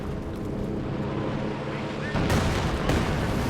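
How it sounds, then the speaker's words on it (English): Artillery barrage in the strategy video game Company of Heroes 2, a continuous rumbling roar of distant shelling that swells into a louder blast partway through, with no voices. "Anyway, more artillery's coming down."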